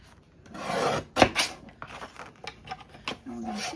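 Scissors cutting a strip of cardstock about an inch wide for a pop-up gift card holder, heard as brief close rasping snips and rubbing paper sounds with a few small taps between them.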